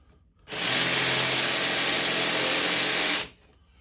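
A jigsaw runs alone in one loud, steady burst of about three seconds, close up, with a buzzing, rattling tone that starts and stops abruptly.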